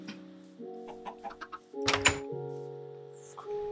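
Minecraft chickens clucking amid blocky game sound effects: short tonal clucks and taps, a sharp louder burst in the middle, then sustained game tones, fairly quiet overall.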